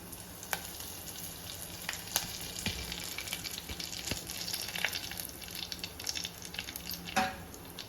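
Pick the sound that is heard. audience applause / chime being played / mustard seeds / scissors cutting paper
mustard seeds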